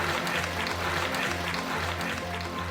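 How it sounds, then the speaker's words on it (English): Sustained audience applause at a sci-fi convention panel, a steady wash of many hands clapping, moderately loud and unbroken, with no voices on top. "please, huge round of applause for Denis and Angus"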